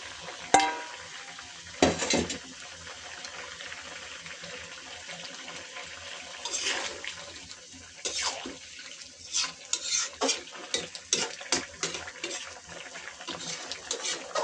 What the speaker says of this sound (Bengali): এবার মাছ দিয়ে দিই